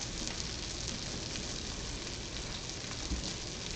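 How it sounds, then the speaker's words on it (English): Heavy rain pouring outside during a thunderstorm, a dense continuous hiss with a dull thump near the end, heard alone without talk. "Is it raining at you guys' house too?"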